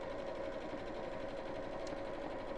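A sewing machine runs steadily, stitching a quarter-inch seam around the curved bottom of a ladies' evening bag, a continuous close hum with no talk.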